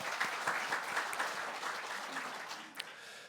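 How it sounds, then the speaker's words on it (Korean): Congregation in a church applauds for Korean War and Vietnam War veterans, a dense, steady clapping that fills the room for a few seconds and then tapers slightly. "박수하겠습니다."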